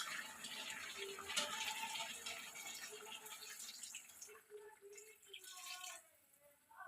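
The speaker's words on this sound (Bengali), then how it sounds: "এখন এখানে একটু জল অ্যাড করব।" Water poured into a pot of partly boiled vegetables, a steady splashing pour for about four seconds that thins into a few trickles and drips before stopping.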